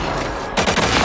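Iron Man's pulse cannons in the Marvel Rivals video game fire indoors: after a brief lull comes a loud, rapid burst of repeated energy blasts close by.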